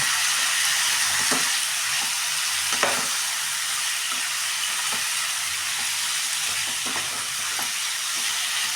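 Chicken fry being mixed in a hot pan, a continuous close sizzle with repeated scraping and clinking strokes of the spoon at an irregular rhythm throughout.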